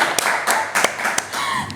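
Scattered clapping comes from a small audience at a school competition awards session, a few louder claps standing out above a continuous hum of background noise.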